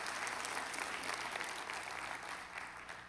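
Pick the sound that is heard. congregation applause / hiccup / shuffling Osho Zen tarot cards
congregation applause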